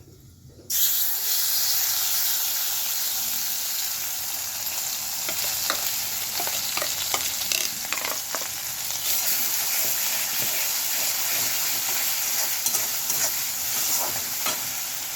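Ground black cumin paste hits a hot pan and fries with a loud, constant sizzle and hiss, while scraping strokes of stirring come through on top, close up with no voices.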